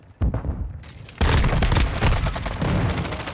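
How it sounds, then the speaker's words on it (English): Stun grenade bursting in Call of Duty Modern Warfare II, a sharp bang followed by a louder, sustained crackling blast amid ongoing gunfire, close and harsh. "Stun grenade out!"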